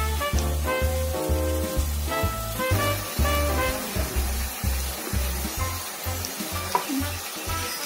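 Roti pieces deep frying in hot oil: a steady sizzle and bubbling throughout, partly under louder rhythmic background music with a pulsing beat.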